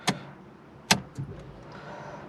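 An Alfa Romeo Mito's key clicks and turns in the ignition, giving a few sharp close metallic clicks followed by a faint electrical hum as the car's systems wake.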